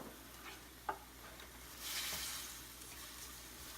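Sugar and soy sauce stirred into simmering beef and tofu in a Japanese dish, a soft sizzle with faint scraping stirs and one brief clack, swelling into a louder hiss midway, with no talking.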